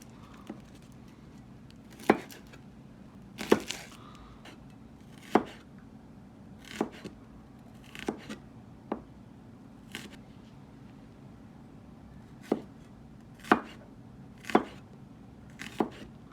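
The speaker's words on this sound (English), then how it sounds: "I'm going to chop one shallot." A knife chops a shallot on a cutting board, about a dozen sharp, distinct taps spaced irregularly, close and clear over a quiet kitchen background.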